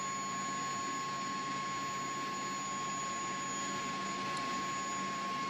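Twin engines of a CH-47D Chinook spool up in X-Plane 11 flight simulator, a steady whining turbine drone with a thin high tone, constant and even throughout.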